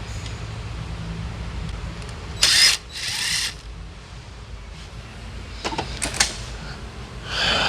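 Short bursts of a power tool working 10mm bolts on a PT Cruiser, two or three brief spins separated by quiet stretches, with faint ratcheting and clanks between them, close by.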